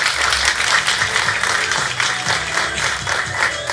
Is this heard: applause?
yes